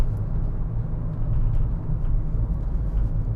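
2014 Peugeot Partner 1.6 HDi S L1 850 van cruising on a motorway, a steady low engine and road rumble droning throughout with constant tyre roar and no talk.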